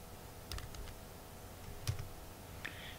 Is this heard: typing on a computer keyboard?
yes